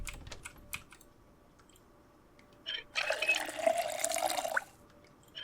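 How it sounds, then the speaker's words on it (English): Water bottle filled from a tap in the Project Zomboid video game, a rushing water stream lasting about two seconds, preceded by close computer keyboard typing and clicks. "I need to fill up this water bottle."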